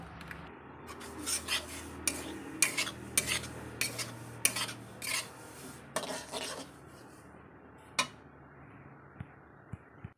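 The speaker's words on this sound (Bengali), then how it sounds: "সুজিটা আগে আমি ভালো করে নেড়ে নেবো" Dry semolina is stirred in a kadai for coconut pitha: a quiet run of repeated metal spoon scrapes and knocks against the pan, with a few scattered clinks as the strokes slow.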